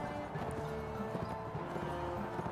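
Horse hooves clip-clop steadily in the medieval combat game Mount & Blade, with quick, even hoofbeats over a busy background of battle noise and no talking.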